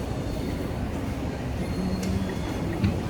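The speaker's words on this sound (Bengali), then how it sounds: "মেট্রো স্টেশন এক্সিট করতেছে আর কি।" A metro train pulls out of a city station with a continuous low rumble and rolling wheel noise, steady and fairly loud, with a brief thin squeal rising near the end.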